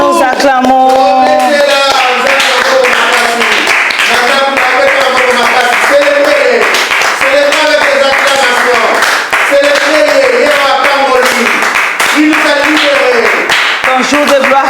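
A congregation at a prayer service claps steadily and rhythmically, close and loud, beneath a strong voice that prays or sings throughout.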